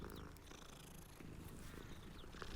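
A cat purring while being petted in the video game Hogwarts Legacy, a steady low rumbling purr running through the whole moment, close and fairly soft, with faint chimes and game sounds layered above.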